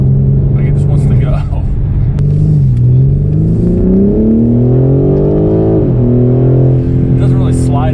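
BMW M4 Competition with an 8-speed gearbox revving hard as the driver floors it, a loud, close engine drone rising and falling in pitch through a downshift, with someone talking over it.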